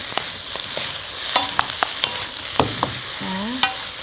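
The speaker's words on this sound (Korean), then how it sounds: "가지를 센 불에서 다 익을 때까지 얼른 볶아주시는 거예요" Eggplant stir-frying over high heat with gochujang, a steady loud sizzle broken by sharp spatula scrapes and clacks against the pan at irregular intervals.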